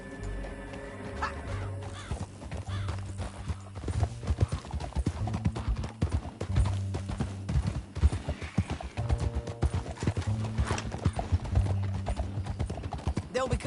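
Steady clip-clopping of horse hooves at a trot in Red Dead Redemption 2 story mode, continuous and fairly loud, with game sound effects and occasional voices layered over it.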